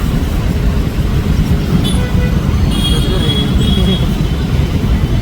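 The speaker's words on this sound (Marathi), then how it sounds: "तुम्ही बघू शकताय पुण्याचं ट्रॅफिक" Busy road traffic in Pune with bikes and other vehicles: a loud, constant low rumble of engines, with a few brief higher horn-like tones breaking through.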